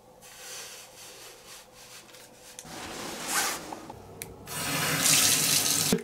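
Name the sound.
shower water running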